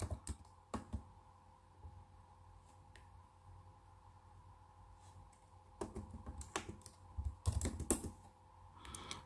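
Bursts of keyboard typing, close and fairly quiet, with sparse clicks early on and a denser flurry of keystrokes toward the end.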